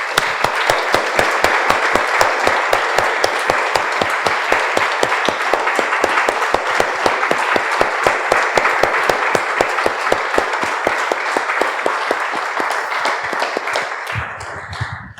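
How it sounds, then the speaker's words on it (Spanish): Church congregation applauding together, a steady, fairly loud patter of many hands clapping in quick, even rhythm that keeps on and then fades out at the end. "Damos un aplauso, hermanos, al Señor."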